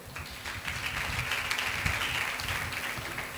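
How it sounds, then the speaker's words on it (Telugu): A church congregation at a fasting prayer service bursts into sustained applause, a dense, steady wash of clapping that holds at an even level throughout, with no voices over it. "ఒకసారి అందరూ చప్పట్లు కొట్టండి"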